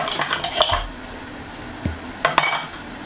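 A utensil stirs and scrapes Moroccan vermicelli seffa with meat in a pot, giving a few short clinking, scraping bursts near the start and again toward the end, separated by quiet.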